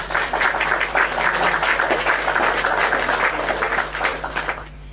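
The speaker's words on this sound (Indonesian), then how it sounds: "Tepuk tangan dulu kawan-kawan" A crowd claps steadily for several seconds, a dense patter of applause that fades slightly at the end.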